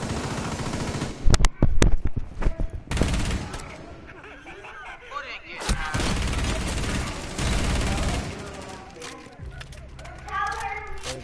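Video game gunfire, bursts of rapid automatic shots and scattered single cracks that hit hardest early on, mixed with other game sounds and frequent players' voices throughout.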